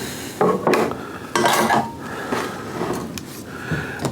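Dirty dishes and utensils tossed into a container while making French toast moonshine, with irregular clatters and clinks of pans and cutlery, fairly close and moderately loud, mostly without talk.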